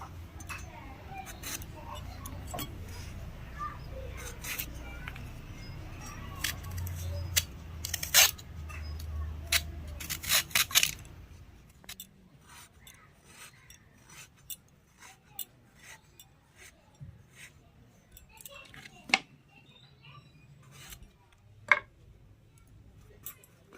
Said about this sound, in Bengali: আমি সব পটলগুলো ভালোভাবে ছিলে নিয়েছি